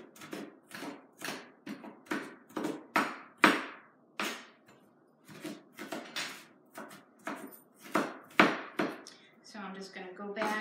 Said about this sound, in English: So you're just chopping everything fine.